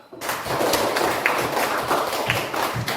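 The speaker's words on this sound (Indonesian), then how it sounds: "Baik, tepuk tangan." Fourth-grade schoolchildren clapping together in a classroom, a dense, steady burst of many hands lasting several seconds, loud and close with a few louder slaps standing out.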